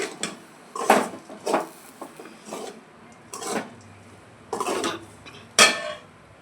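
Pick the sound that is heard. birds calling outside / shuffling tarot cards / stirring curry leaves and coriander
stirring curry leaves and coriander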